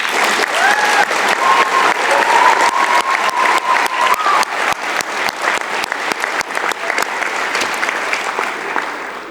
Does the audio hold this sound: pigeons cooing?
no